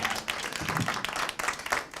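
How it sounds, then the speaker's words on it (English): A brief round of applause for a new DJ on a comedy show, moderate and fairly close, with scattered claps over two seconds. "Give him a round of applause"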